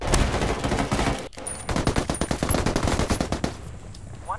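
Rapid automatic gunfire from a multiplayer match of Ghost Recon Ghost War, loud and close. A short burst is followed by a brief gap, then a longer stream of shots that trails off into near silence.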